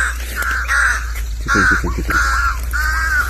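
Crows caw loudly and repeatedly while fighting with a drongo in a kadu garden, harsh calls in rapid bursts over steady background noise, with someone speaking briefly.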